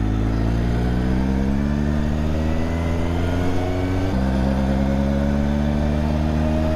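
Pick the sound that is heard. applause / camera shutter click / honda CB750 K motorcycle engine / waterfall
honda CB750 K motorcycle engine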